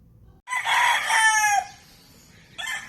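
A rooster at a small backyard coop crows once, loud and close, then a second crow begins just as the sound ends.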